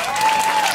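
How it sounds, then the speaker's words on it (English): A brief burst of audience applause at a live concert show, crowd clapping filling the moment alone with no talk. "please give my friend a nice round of applause"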